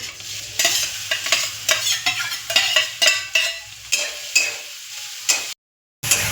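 Onion fries in hot ghee with spices, sizzling loudly under repeated scraping stir strokes, followed by a brief silent gap near the end.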